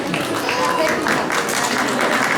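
A crowd at the Shivrajyotsav 2025 cultural event applauds for a singer, with dense, steady clapping and cheering that fills the whole moment at close range, mixed with crowd voices.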